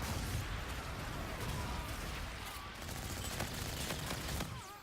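Dense, loud automatic gunfire in Call of Duty: Infinite Warfare team deathmatch with the OSA weapon fired from the hip, a continuous rattling barrage that fills the whole clip, with no talking.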